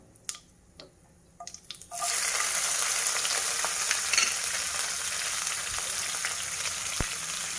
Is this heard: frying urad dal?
yes